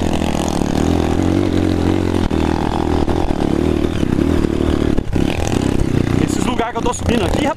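Dirt motorcycle engine climbing a steep trail, a loud continuous revving drone with clattering and scraping, heard close throughout under someone talking.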